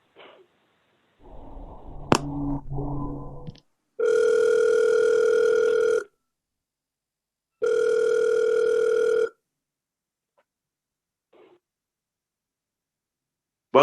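Telephone tones while a call is being transferred: a brief burst of line noise, then two long, steady electronic beeps separated by a pause, heard alone and fairly loud.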